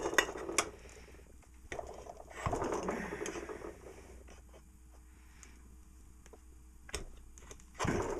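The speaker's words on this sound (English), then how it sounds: "you're going to punch like 5 or 6 holes in the bottom, about 1/4 inch in diameter" Wire cutters punching five or six small holes through the thin metal bottom of a small can, heard as a few sharp metallic clicks and scrapes close up, separated by quieter handling noise.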